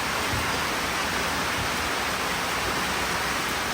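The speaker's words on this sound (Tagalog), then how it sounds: "umuulan na dito" Steady rain falling over an onion farm, a continuous broad hiss with no distinct drops, constant and fairly close throughout with no talking.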